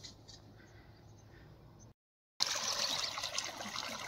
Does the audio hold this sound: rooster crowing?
no